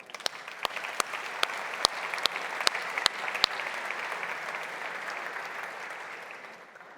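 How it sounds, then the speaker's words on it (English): A conference opening audience claps for the Call for Papers team, starting with a few loud, evenly spaced claps over a steady wash of applause that fades gently toward the end. "So I think they deserve as well a very big applause"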